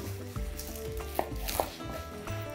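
A knife chopping fresh arugula leaves on a cutting board, a few soft uneven cuts close up with a couple of sharper knocks and light kitchen background noise.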